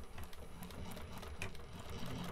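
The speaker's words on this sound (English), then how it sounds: "I have my zipper foot on and we're going to sew around a 1/4 inch seam allowance" A sewing machine fitted with a zipper foot stitches a quarter-inch seam along piping on a bag, giving a steady, fast mechanical whirr at moderate volume with no talk.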